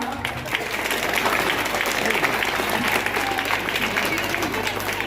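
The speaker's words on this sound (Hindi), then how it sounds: "जोरदार तालियां" Loud, steady applause from a large crowd at a school headmaster's farewell ceremony fills the whole stretch, dense and continuous, with voices faintly mixed underneath.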